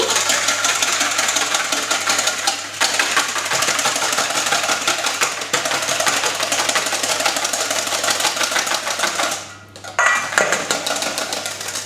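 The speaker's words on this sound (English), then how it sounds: "And just whisk these until they're foamy." Room-temperature egg whites whisked until foamy for fig and walnut friands give a loud, continuous whirring rattle that runs almost without a break and drops out briefly near the end.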